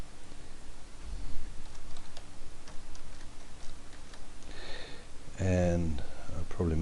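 Keystrokes on a computer keyboard as a name is typed, a quick run of light clicks at moderate distance, with a person speaking over the later part.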